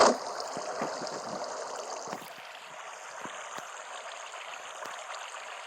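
Water flows and trickles steadily at a low level in a video game, with a few faint clicks over the continuous stream.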